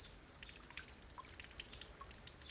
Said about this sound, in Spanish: El jardín tiene una fuente